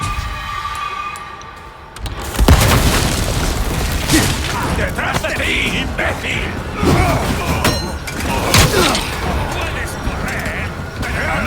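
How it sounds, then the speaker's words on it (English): Dynamite blows up a Ganado in Resident Evil 4: a sudden loud boom after a quieter stretch, followed by scattered crashes and game noise, with someone talking over it. "Just Ganado getting blown up by the lady with the dynamite"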